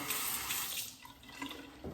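A brief stream of water poured onto a shaving brush, running and splashing, fairly close and steady, with no voices.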